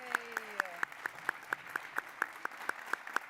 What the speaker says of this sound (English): Could I please ask every awardee to stand up and get one last round of applause?